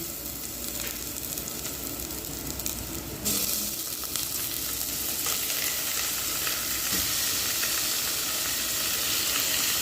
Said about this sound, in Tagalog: Then, mag-add na po tayo guys ng chicken.